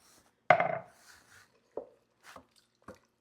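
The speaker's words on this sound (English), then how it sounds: "the final ingredient now is our 2 cans of beans" Canned pinto beans tipped into a pot of homemade chili: one heavy, wet splat lands up close, followed by a few smaller, softer squishy plops spaced apart, with quiet gaps between and no talking.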